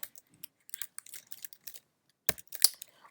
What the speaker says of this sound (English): So I just typed it in